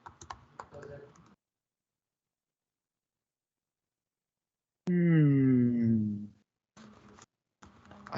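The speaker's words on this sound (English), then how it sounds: "I'm typing the question in." Computer keyboard typing in short clicky bursts near the start and end, with a quiet gap in between, interrupted by a person speaking in the middle.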